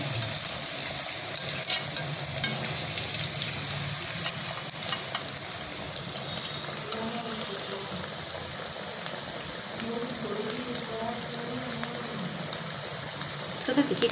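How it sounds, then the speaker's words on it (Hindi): Pitha frying in oil in a home kitchen, a steady close sizzle with bubbling and occasional stirring or scraping throughout, with a voice speaking intermittently over it. "तो हमारा ये पीठा फ्राई हो चुकी है"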